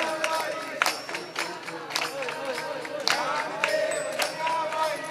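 An audience clapping along during a village kirtan, sharp hand claps landing in a loose rhythm over a busy crowd with voices talking and singing.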